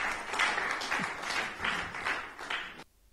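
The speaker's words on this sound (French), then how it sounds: "Je crois qu'il n'y en a qu'un qui applaudit." Steady applause fills the clip, sounding like a small crowd rather than one person, then cuts off abruptly near the end.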